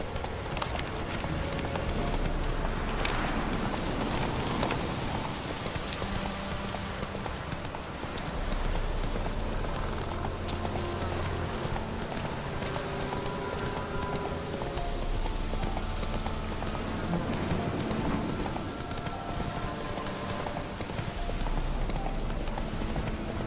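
Roach, the horse in The Witcher 3 video game, galloping with a continuous rhythmic clip-clop of hooves over a long stretch, loud and close, with a rain-like hiss in the background.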